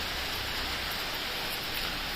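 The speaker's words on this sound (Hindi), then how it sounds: "बहुत तेज बारिश हो रही है" Heavy rain pours down on the road from Gangtok to Nathula Pass, a dense, constant hiss of falling water, close and steady, with no voices.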